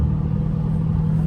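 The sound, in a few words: Hellcat exhaust crackles with drag pack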